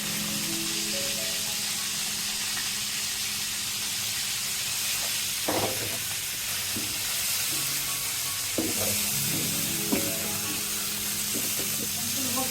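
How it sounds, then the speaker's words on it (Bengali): Continuous sizzling of cauliflower frying in mustard oil, a steady hiss with a few stirring clatters and bumps, a faint tonal hum underneath. "ফুলকপিগুলো ভেজে নিব।"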